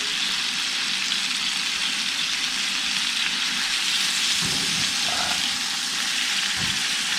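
Blackened redfish sears in a covered pan, producing a loud, dense, continuous hiss like heavy rain that holds steady throughout, with a few faint low knocks near the end.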